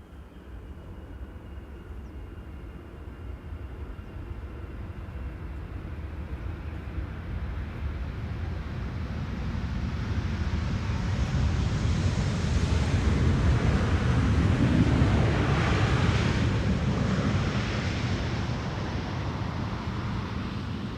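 A KLM airliner on its arrival into Schiphol Airport, back from Cape Town, produces a broad jet roar that builds steadily and peaks before holding loud, heard from a distance outdoors with wind buffeting the microphone.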